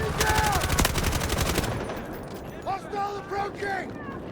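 Rapid automatic gunfire in the Delta Force shooter game, a dense burst of shots lasting under two seconds and then stopping abruptly, followed by quieter game ambience and a few brief tonal interface sounds.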